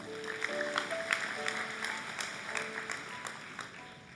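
A church congregation claps during a sermon, a soft, scattered patter of many hands that stays distant and faint, with low background tones beneath it.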